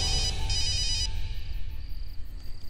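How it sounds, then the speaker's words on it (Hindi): A phone's electronic ringtone trills in short bursts, then fades, over a low steady hum and faint chirping in the background. "इतनी रात में नारद का फोन"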